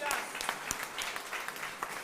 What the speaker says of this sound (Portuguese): Aplauda o Senhor, querido.